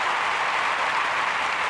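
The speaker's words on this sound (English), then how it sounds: "Plenty of crowd support here." A steady wash of crowd applause fills a stadium before an event in a London 2012 Olympics video game, a dense, even roar of clapping with no distinct individual claps and no speech.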